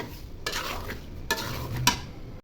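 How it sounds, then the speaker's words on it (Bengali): Mango pieces tossed with salt sizzle in a pan for a sour-spicy pickle, with three distinct stirring scrapes of a spoon over a continuous close frying hiss. "লবণ দিয়ে কিছুক্ষণ ভেজে নিব।"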